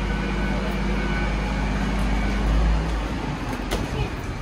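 An LNER Azuma Hitachi AT300 train idles on its diesel generators, a low steady rumble with a broad hum above it, close and constant, swelling slightly midway.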